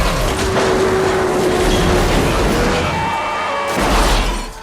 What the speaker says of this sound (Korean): 정체된 차들을 측면으로 박살을 내며 질주하는 버스